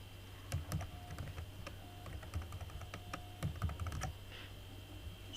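Keys clack on a computer keyboard in two short quick bursts of typing, close and fairly quiet, over a faint steady hum.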